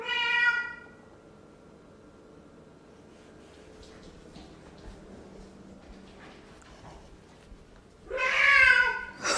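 A deaf cat lets out loud, drawn-out meows, one at the start and another near the end, separated by a quiet stretch with faint kitchen noises.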